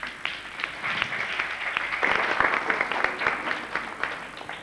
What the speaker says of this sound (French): On applaudit très fort pour eux.